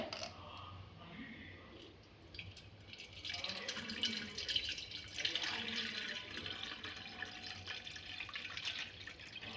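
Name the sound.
water pouring into electric kettle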